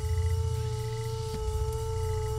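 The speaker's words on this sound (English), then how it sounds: "It sounds like one of those wooden frogs that mimic the sound of frogs." A frog-like croaking sound out on open water: a steady rasping drone with a low, rumbling undertone that carries on unbroken and fairly faint, with no voices.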